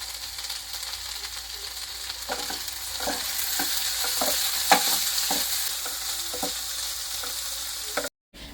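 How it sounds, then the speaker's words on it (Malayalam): Ivy gourd frying in coconut oil sizzles steadily in a pan while a spoon scrapes and stirs it in irregular strokes, close up, with no talking, ending abruptly. "കുറച്ച് വെളിച്ചെണ്ണ ഒഴിച്ചിട്ട് നന്നായിട്ട് നമുക്കൊന്ന് ഇളക്കിയിടാം."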